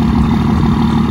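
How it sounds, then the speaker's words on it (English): Second-generation 24-valve Cummins diesel pickup truck idling, a loud, steady, throaty low exhaust drone held close and constant for about a second with no talk. "the exhaust note, you can't beat that damn second gen"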